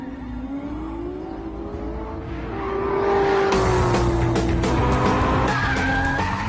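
A VW Scirocco TDI diesel car driven hard, its engine note climbing as it accelerates, with loud tire squeal and skidding up close.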